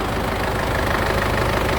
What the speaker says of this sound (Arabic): كما تسمع الموتور يخدم